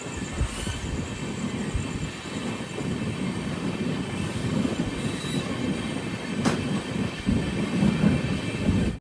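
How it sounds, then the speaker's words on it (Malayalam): An Amrit Bharat Express sleeper-class train rumbles steadily into Thalassery station, a loud continuous wheel-and-rail roar with occasional faint squeals and a brief sharp clank near the end, heard from on board without talk. "പന്ത്രണ്ട് 8 ട്രെയിൻ ഇപ്പോൾ തലശ്ശേരിയിലെത്തിയേ"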